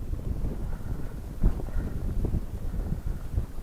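Strong wind buffets the microphone outdoors by the water during a July lure-fishing trip, a steady low roar with gusty bumps and no talk.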